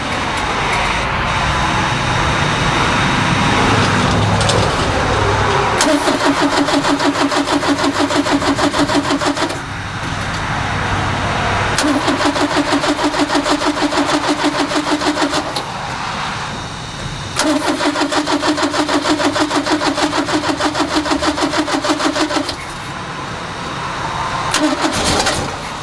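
A 1974 Ford Capri with a 2.0 Pinto engine cranks and fires several times, each start settling into a loud, close, rough running note with pauses between attempts.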